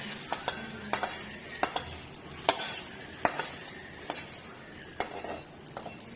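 Bay leaf and cumin seeds stirred in a pan in a village kitchen, a spoon scraping and clinking against the metal in irregular taps over a faint low sizzle, close and fairly quiet.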